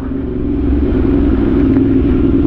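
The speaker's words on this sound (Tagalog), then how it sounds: "Ang traffic! Buti na lang nagmotor tayo." A motorcycle rides through congested road traffic on a damp day after rain, with a steady, loud engine rumble and traffic drone holding throughout and no talk.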